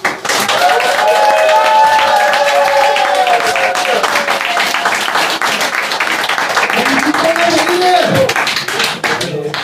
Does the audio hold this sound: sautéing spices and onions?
no